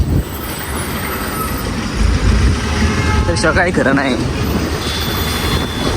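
Trucks pass on a busy road with a loud engine rumble, a brief hiss and a few tonal whines, while a voice talks over the traffic noise.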